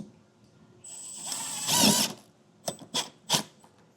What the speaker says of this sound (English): So I'll just use the included self-tapper and drive that in.